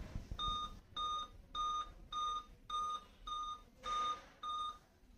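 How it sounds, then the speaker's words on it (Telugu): Old Dell Inspiron N5010 i5 laptop sounding its startup error code: a clean series of eight evenly spaced electronic beeps, quiet and alone. "ఇది ఆన్ చేస్తే 8 బీప్స్ వస్తుంది"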